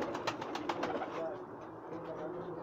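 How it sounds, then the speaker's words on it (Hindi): A Chinese pigeon coos softly, with repeated low throaty calls close by. Someone talks over the cooing throughout. "ये दोस्तों ये एक चीना कबूतर मैं आपको दिखा रहा हूँ"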